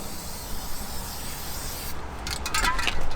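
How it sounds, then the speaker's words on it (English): A steady hissing spritz of Mask Attack spray glue over truck carpets runs continuously and close, with rubbing scrapes joining in near the end. "What you're going to do is you're just going to lightly spritz the carpets."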